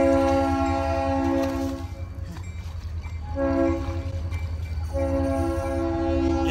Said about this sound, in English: We got the trains.